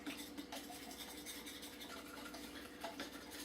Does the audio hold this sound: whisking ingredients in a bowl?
yes